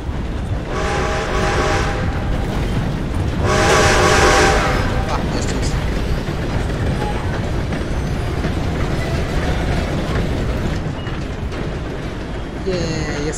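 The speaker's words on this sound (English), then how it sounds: "Gotta beat that train, Morgan!" In the Red Dead Redemption 2 video game, a train rumbles past with a steady rolling roar while its horn blares in two long blasts, loud and near, with voices talking over it.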